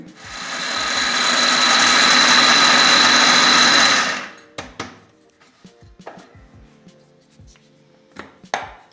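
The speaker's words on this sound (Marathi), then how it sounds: "मी मिक्सरमधून हे बारीक करून दाखवणार आहे तुम्हाला" Kitchen mixer grinder whirring loudly as it grinds chapati pieces into crumbs for malida, a steady roar for about four seconds that stops abruptly, followed by scattered clinks and knocks of handling the jar.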